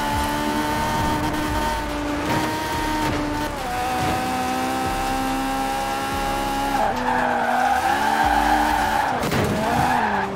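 A Mercedes in the Forza Horizon 4 racing game skids with sustained tire squeal over a loud, continuous engine drone, the pitch sliding and shifting for about ten seconds with no talking.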